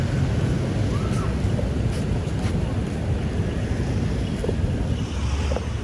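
At Kuta Beach in Bali, ocean surf and gusting wind make a continuous broad roar with steady wind buffeting on the microphone, loud and unbroken throughout.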